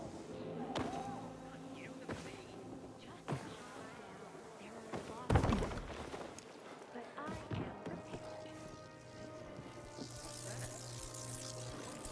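Bees buzzing in Dying Light 2, a steady insect drone that hums on and off throughout, mixed with game sounds, a loud clatter midway and a voice talking.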